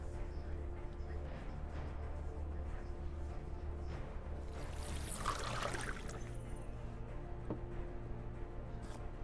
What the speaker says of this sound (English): That's one way to pour a glass of water.